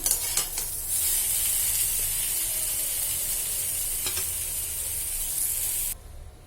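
Eggplant fries in hot oil, a bright steady hissing sizzle with a few sharp spatters and stirring taps near the start, cutting off sharply near the end.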